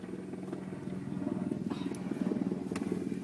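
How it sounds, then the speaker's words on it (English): A helicopter passes overhead, a low, steady droning rotor thrum with a faint rhythmic pulse that swells slightly louder toward the end, heard alone without talk. "Friggin' helicopter."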